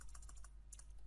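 Typing on a computer keyboard while building a Bootstrap web page header, with a quick run of soft, close key clicks in irregular bursts over a steady low background hum.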